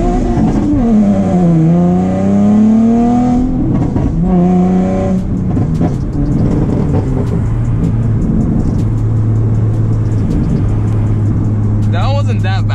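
A Nissan 370Z on a 2-step launch control run revs hard with its engine note sweeping up and down, then launches with wheelspin into a sustained loud roar, with voices talking over it.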